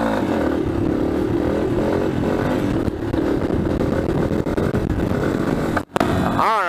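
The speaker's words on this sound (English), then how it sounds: "I will get one last good wheelie down here" A motorcycle engine revs hard through a wheelie, a loud, close, continuous roar that dips briefly near the end before picking back up.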